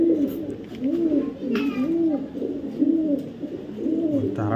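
Racing pigeons coo in a steady, repeating rhythm, several soft throaty calls in a row, close by, with faint background chatter and a brief sharper sound partway through.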